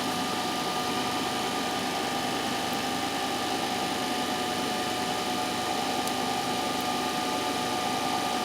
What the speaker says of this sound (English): Now the motor section is completely on.